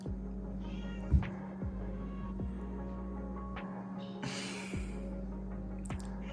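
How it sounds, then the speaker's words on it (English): Domestic cat meowing indoors, a short close call near the start over a steady low hum, with a few faint clicks and rustles afterward. "When I tried to film this audio right now, my cat was rudely interrupting."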